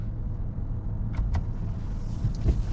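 A car driving home at night gives a steady low rumble of road and engine noise inside the cabin, with a couple of faint clicks and rattles over the top.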